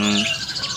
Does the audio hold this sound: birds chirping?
yes